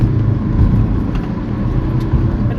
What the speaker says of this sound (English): Right, let's give it a wee bit of power. So, and we're in third gear.